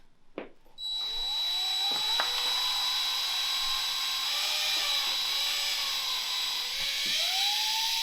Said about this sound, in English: he's going to drill that bottom center post hole